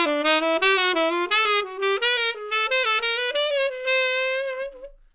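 A tenor saxophone plays a jazz enclosure exercise climbing up the scale, a run of short, clearly articulated notes in a steady rhythm, close and solo before trailing off.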